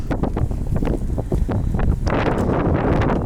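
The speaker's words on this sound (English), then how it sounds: "There we go, let's try that to block the wind." Wind buffets a microphone outdoors beside a 2020 Ford Mustang GT Premium with Performance Package on a cold day, a loud, continuous rumbling roar with gusty surges that swell stronger in the last second.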